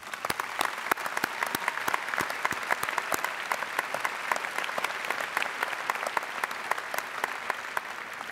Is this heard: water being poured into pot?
no